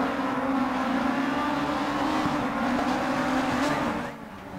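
Rallycross race cars in DiRT 4 roar together in a continuous loud engine drone, with tires scrubbing and a steady rumble before the noise eases slightly near the end.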